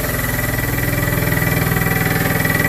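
A PM-25MV milling machine spindle runs steadily at a tool-set RPM during facing and drilling work, giving a loud, continuous mechanical drone with a faint rhythmic pulse throughout.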